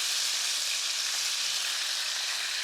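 Quail sizzles steadily in a hot pan, a dense, even frying hiss close up and without talk.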